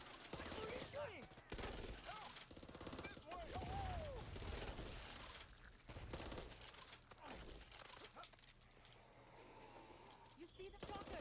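Rapid bursts of gunfire in the zombie shooter video game Back 4 Blood, loud and continuous, mixed with game effects while players talk over it.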